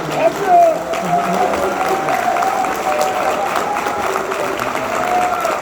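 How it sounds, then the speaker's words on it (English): A crowd at a Marine Corps ball claps steadily in sustained applause, with voices and murmurs mixed into the dense clapping. "please join me in a round of applause"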